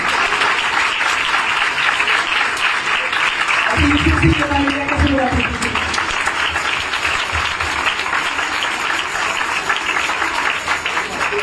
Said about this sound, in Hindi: रुक रुक के बजाय एक बार जोरदार ताली बजाएं।